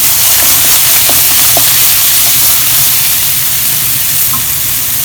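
Onions sizzle loudly in a hot pan as a teaspoon of soy sauce goes in, a steady close frying hiss with a few faint clicks of a spoon, no talk.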